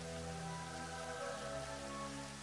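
Steady rain falls in The Elder Scrolls II: Daggerfall, a constant even hiss with a low background hum and no voices over it.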